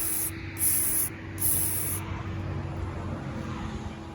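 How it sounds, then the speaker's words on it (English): Brake or carb cleaner is sprayed onto small parts pulled from a 1975 International dump truck, two sharp aerosol hisses about half a second each, close up, then a quieter rubbing background. "Carb cleaner or brake clean, whatever you have."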